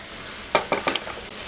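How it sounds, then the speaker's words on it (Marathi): Vegetables and soya chunks sautéed and stirred in a pot for a soya rice one-pot meal, a few quick scraping stir strokes with soft sizzling, close and moderately loud, no talking. "चांगलं परतून घेऊया।"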